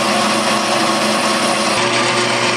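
A small lathe boring a Honda XR400R motorcycle cylinder at full speed gives off a loud, steady mechanical whir and grinding drone that stays unchanged throughout.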